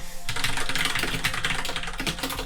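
Rapid, steady typing on a computer keyboard while writing code for a 3D image gallery, a dense run of close clicks and clacks with no talking.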